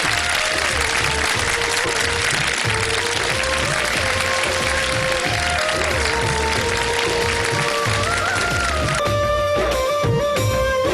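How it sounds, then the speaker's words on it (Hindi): Loud, sustained applause from a television studio audience during a Ramadan iftar broadcast, with music playing underneath, continuing throughout before the music shifts near the end. "ये तुम्हारे लिए बज रही है तालियां हैं"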